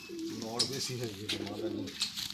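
Kala sabuj pigeons, rare old-generation birds, coo in a low throaty series of rolling, pulsing notes, close by, while a voice talks over them.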